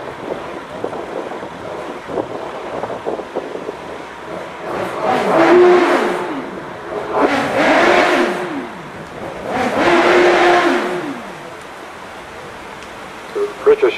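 A naturally aspirated 1600 race car at the Doune British Hillclimb Championship, its engine swelling three times through rising gear pulls with wind buffeting the microphone, passing nearby and fading between the bursts.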